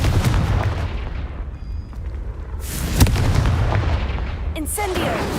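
Confringo explosive spell blasts in the Hogwarts Legacy video game, booming bursts over a dense rumbling game soundscape with sharp crackling impacts, loud and close.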